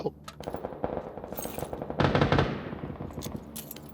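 Video game gunfire rattles in rapid automatic bursts, close and loud, with a denser volley near the middle and a player's voice speaking over it.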